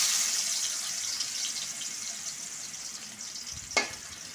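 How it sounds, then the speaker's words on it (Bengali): Jackfruit seeds fry in hot soybean and mustard oil with a steady, bright sizzle close by, and one brief clatter or stir near the end. "সেভাবে এই বিচিগুলোকেও আমরা লাল লাল করে মুচমুচে করে ভেজে নেব"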